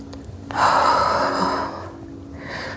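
A single long exhale during a core yoga exercise, breathy and close, swelling quickly then fading over about a second and a half, with a faint breath afterward.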